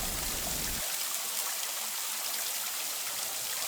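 Mossy waterfall midway along Tamna Valley on Hallasan, Jeju, a steady close hiss of falling and trickling water over rock, continuous and fairly loud, with no voices.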